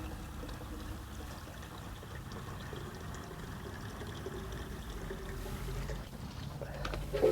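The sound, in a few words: watering potted rose from watering can with root stimulator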